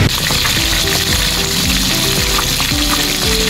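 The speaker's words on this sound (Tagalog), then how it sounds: "At yun guys, piniprito ko na yung tilapia." Tilapia fries in a pan outdoors with a loud, continuous sizzle and crackle, steady throughout and close by.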